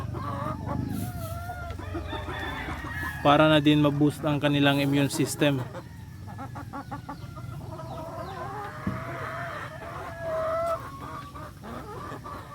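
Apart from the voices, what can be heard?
chickens clucking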